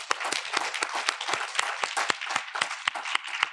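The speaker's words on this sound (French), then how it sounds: "On peut applaudir bien fort." A crowd at an awards ceremony applauds steadily, with dense overlapping claps forming a continuous moderate wash that holds at an even level throughout.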